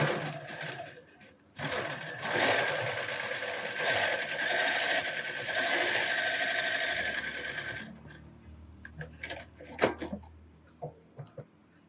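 A sewing machine stitches a zigzag seam in one steady, loud run for about eight seconds, then stops, leaving a few faint clicks and handling knocks.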